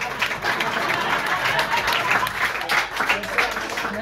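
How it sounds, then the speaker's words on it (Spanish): Live audience applauding steadily at a comedy stage show, a dense, continuous wash of clapping throughout with a voice talking over it. "así aplaudiendo con ganas a las amigas"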